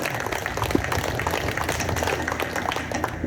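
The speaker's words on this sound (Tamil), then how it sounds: "கொஞ்சம் கைத்தட்டுங்களா" Audience clapping at a church festival for Our Lady of the Rosary, a steady, moderately loud patter of many hands that runs throughout with no pauses.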